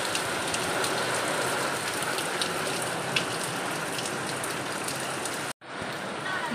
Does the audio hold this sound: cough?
no